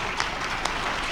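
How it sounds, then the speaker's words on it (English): Audience applause at a housing strategies keynote event, a brief dense patter of clapping held at steady level, with no voices over it. "let's just give everybody a round of applause"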